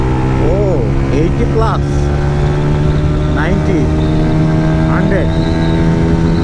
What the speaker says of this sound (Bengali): সো এক্সস্টের সাউন্ডটা অনেক বেশি জোস।